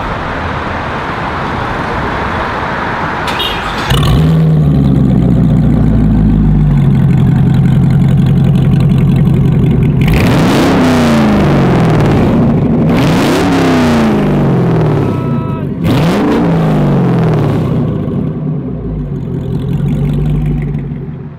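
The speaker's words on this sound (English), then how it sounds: "Let's turn her on and first of all see how the Devel 16 sounds." A Devel Sixteen supercar engine fires up with a sudden loud start, settles into a heavy deep idle, then delivers several aggressive revs that climb and fall, loud and close.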